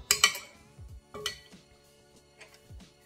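A small spoon clinks against dishes beside a bowl of homemade dill ranch sauce during vegan cooking, giving two sharp close clinks at the start, another near the middle, then softer scattered taps.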